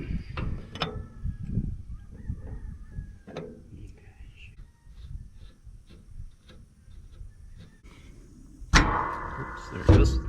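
Hydraulic hose being worked loose from a cylinder on haying equipment: scattered metallic clicks and taps from close by, then a sudden loud hissing, rattling burst near the end.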